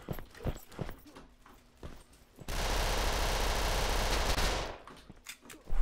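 Gunfire in the shooter game Red Crucible 2 starts as scattered sharp shots and footstep-like clicks, then breaks into a loud sustained burst of rapid automatic fire lasting a few seconds before the single shots return.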